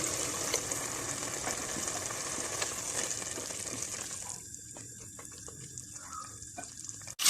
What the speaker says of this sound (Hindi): यहाँ मैं 1 कप पानी डालूँगी लोबिया के अंदर